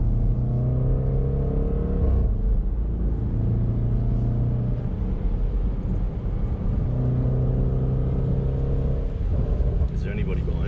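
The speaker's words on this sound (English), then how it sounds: "This is the SVR." A Jaguar SVR engine droning and rising in pitch through sustained accelerations, a loud, steady rumble heard from inside the car with people talking over it.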